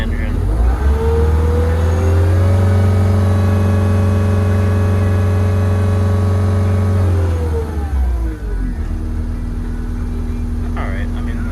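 A Case SV185 skid steer engine runs steadily while warming up, a loud, close, sustained drone that shifts pitch near the end.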